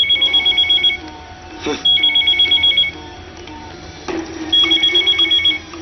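A telephone rings in repeated electronic trill bursts, three bright rings separated by short pauses, fairly loud and close against a faint background.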